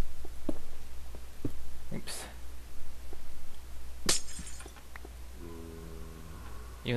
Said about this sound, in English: Even though it sounds like glass, you can still pick it up after.